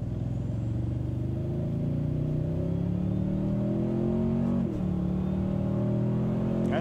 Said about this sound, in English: What do you guys think of the sound of this truck? Because I think that it sounds really good.